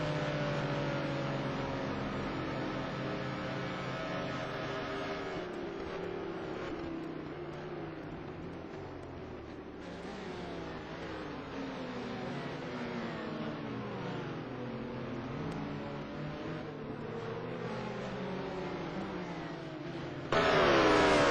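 Touring cars racing at the Rouen circuit in a 2009 STC Black Cup round, with several engines droning and revving continuously, their pitch rising and falling as they pass, and a louder surge right at the end.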